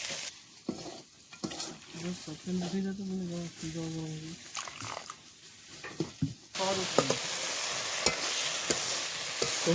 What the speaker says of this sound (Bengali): এবারে আদা কুচি দিয়ে দেবো, একটু নেড়ে চেড়ে দেবো